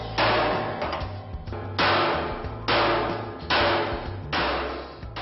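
Metal drum of 1.2 mm sheet being opened by hand with hammer and chisel, heard as loud bursts of clanging strikes, roughly five close blows in a steady rhythm with ringing decay between them.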